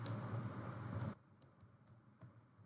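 Keystrokes on a computer keyboard patter quickly and fairly close for about a second, then thin out to a few faint, scattered clicks in a quiet room.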